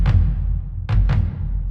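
Sampled trailer tom patch with its high keys missing, a few deep booming drum hits spaced apart, with heavy low rumble sustaining between strikes.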